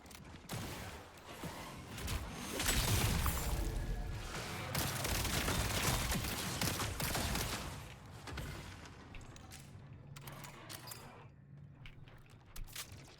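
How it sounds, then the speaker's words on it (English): Rapid bursts of SMG fire in the Marathon shooter game, dense and loud through the middle, mixed with mechanical clatter and game effects, then easing off toward the end. "This new SMG goes crazy."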